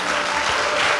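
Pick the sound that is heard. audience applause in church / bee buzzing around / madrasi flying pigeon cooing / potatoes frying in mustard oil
audience applause in church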